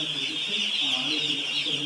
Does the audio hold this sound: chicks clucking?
yes